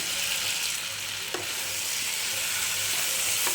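Cauliflower frying in a pan, potatoes being readied alongside, with a steady broadband sizzle running throughout and a brief stir or clink near the middle, close and continuous with no talk.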